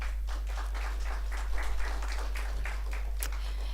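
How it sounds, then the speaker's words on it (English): Audience at an art lecture applauding, a steady patter of many hands clapping at moderate distance over a low electrical hum, with no voices. "Let's give her a round of applause."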